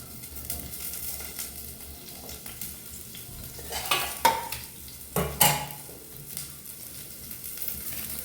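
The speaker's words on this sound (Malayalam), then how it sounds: "ഒരു ചട്ടി അടുപ്പത്ത് വെച്ചങ്ങാണ്ട് വെളിച്ചെണ്ണ ഒഴിച്ച് നമുക്ക് ഉള്ളി ഇട്ട് കൊടുക്കാം" Onions frying in coconut oil in a pan, a continuous sizzle with repeated scraping strokes of a spatula and some louder clanks partway through.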